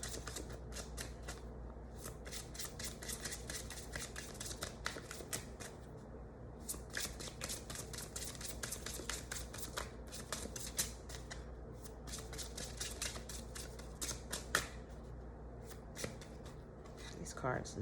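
An Elemental Oracle card deck is shuffled in long runs of quick, crisp riffling flutters, close and fairly quiet, with brief pauses between bursts.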